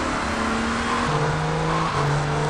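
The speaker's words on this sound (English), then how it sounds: "I'm gonna take this car quick." Car driven during a mission in GTA III, a continuous loud engine hum with steady pitch steps as it shifts gears, alone without talk.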